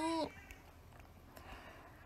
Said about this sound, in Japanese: きーちゃんきーちゃんのきーちゃんがめっちゃ泣いてる